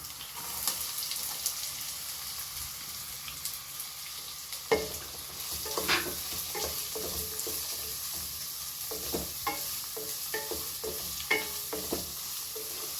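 Chopped onions frying in a pan, a steady low sizzle broken by frequent sharp scrapes and taps of a spatula as they are stirred, close and fairly quiet, without speech.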